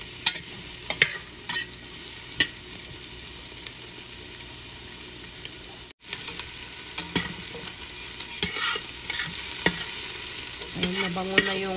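Chopped onion sizzles steadily in a hot pan, a continuous close frying hiss with occasional stirring scrapes, before beef ribs go in for a spicy soup.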